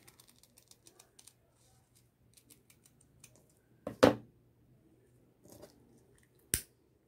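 Scissors snip through two ribbons together while a hair-tiara bow is made, giving two crisp close cutting clicks about two and a half seconds apart after a run of soft handling taps.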